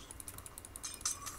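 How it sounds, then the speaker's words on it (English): Quick, light clicks of a computer keyboard key being pressed, close by and fairly quiet, with a few soft taps spread across the moment and no talking. "Hit the letter O on your keyboard."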